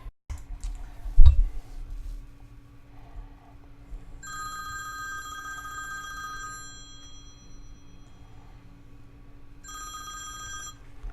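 A telephone rings for a call-in to a sports radio show, with bright electronic ring bursts repeating twice after a click and thump at the start, then a gap and another ring near the end, no talking.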